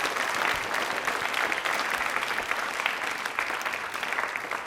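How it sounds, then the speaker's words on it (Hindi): A quiz-programme audience claps together in a dense, continuous round of applause, moderately loud and sustained throughout, with no voices standing out. "तालियां प्लीज एक बार जोरदार इस कार्यक्रम के लिए बजा दीजिए।"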